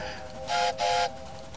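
Two short, bright whistle blasts sound over a steady low rumble of a running train in a railway video game.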